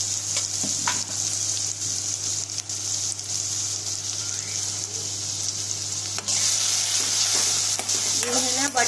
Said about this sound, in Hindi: जितनी ऑयल में धीमी आंच पे फ्राई होगी ना उतना ही टेस्टी भाजी बनेगी हमारी